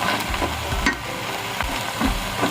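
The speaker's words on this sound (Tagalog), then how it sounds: "Igisa natin ng bahagya" Chickpeas sautéing in a pan, a steady soft sizzle with occasional stirring scrapes and clanks, close and fairly quiet with no talking.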